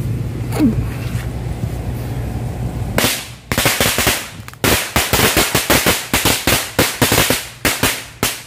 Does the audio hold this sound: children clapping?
no